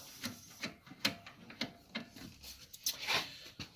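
Bolts on the steering arm dampers of a Scag Freedom Z mower are tightened with a ratchet, producing a series of quiet, irregular clicks and metallic ticks up close with no talk.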